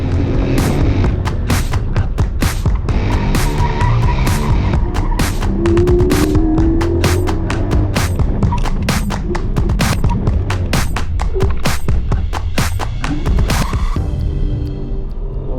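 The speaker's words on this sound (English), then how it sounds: "Full ABS braking." A Porsche 718 GT4 brakes hard under full ABS on an autocross course, its loud engine drone overlaid by rapid pulsing throbs and tire noise before it eases off.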